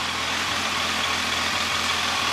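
A motorcycle fitted with an aftermarket exhaust idles nearby, a loud, steady low rumble that holds even throughout without revving, and no one speaks over it.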